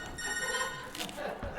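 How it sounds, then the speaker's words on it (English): A telephone rings from under a couch, a steady electronic ring running under overlapping indoor talk and searching. "What phone is ringing?"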